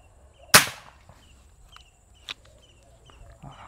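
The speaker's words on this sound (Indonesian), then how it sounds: "Oke, tembakan pertama Canon Hercules." A single sharp PCP air rifle shot cracks out close by, followed by quiet background with faint insect chirps and a small click.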